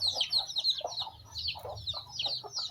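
Native Visayan hens with many chicks cluck in a coop setting. Soft, repeated low clucks mix with a continuous stream of high, rapid cheeping from the chicks, close and steady with no speech.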